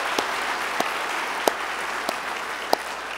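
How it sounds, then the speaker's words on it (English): A church congregation applauds Pastor Chad, a steady broad wash of clapping with a few sharper individual claps standing out, no voices. "You guys give him a great big hand clap"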